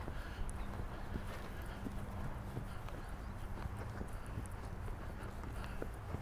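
Horse hooves thud and clip-clop in a steady rhythm over soft ground as a hot-blooded horse is worked on the flat during a jumping training session, close and continuous.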